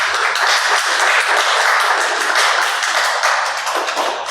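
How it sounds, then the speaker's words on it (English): A panel workshop audience gives a round of applause, dense, steady clapping from many hands filling the room at close range for several seconds, with no talk over it. "Let's give them a round of applause for our panel,"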